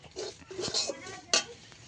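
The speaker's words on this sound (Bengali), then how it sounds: "সুজিটাকে আমি ভালোভাবে ভেজে নেব।" A spoon or spatula scrapes and clinks against a pan as semolina is roasted and stirred in ghee, with a few light metallic knocks, the sharpest near the end.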